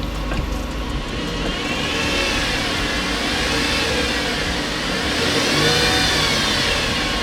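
A V6 Camaro engine with no exhaust noise revs steadily and loudly at close range, sounding a little off, its pitch rising and falling in two long swells.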